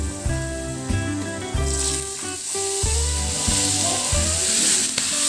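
Chopped onion and green chili sizzle in a frying pan as a bright hiss, while loud rhythmic background music with a steady beat plays throughout and nobody talks.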